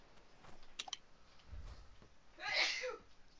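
A single sharp sneeze bursts out near the microphone of a German gameplay session, preceded by a few light keyboard clicks and soft background noise.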